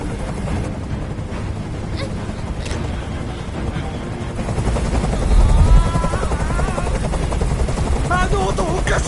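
Steady whirring rotor drone of a helicopter hovering in the video game Detroit: Become Human, loud and continuous, swelling slightly midway, with game voices talking over it.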